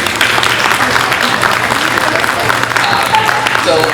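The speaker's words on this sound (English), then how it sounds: "let's also give a big hand to your teachers for all their hard work in preparing you" Sustained applause from a graduation ceremony audience for the teachers at a Grade 8 graduation, a dense, even clapping that fills the hall steadily for the whole stretch.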